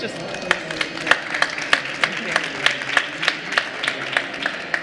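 Scattered applause from a panel audience with distinct, fairly sparse claps repeating steadily, moderately close, with no one talking over it.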